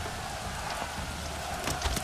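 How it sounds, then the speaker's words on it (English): Heavy rain falls steadily in the medieval strategy video game Manor Lords, a dense, even hiss heard up close with no voices over it. "Heavy rain, but we should be able to take care of these guys pretty quickly."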